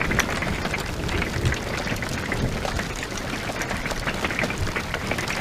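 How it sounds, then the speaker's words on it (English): Large hail during a thunderstorm on Monroe Peak, Utah, hammering and bouncing off solar panels, a dense continuous rattle of sharp impacts close by, loud and steady throughout. "Man, that's big hail, man. It's flying in here."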